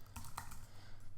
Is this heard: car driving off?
no